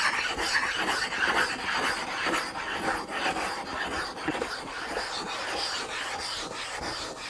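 Telescope mirror glass being ground with carborundum grit, a steady close rasping scrape with a loose back-and-forth rhythm that runs throughout without talk.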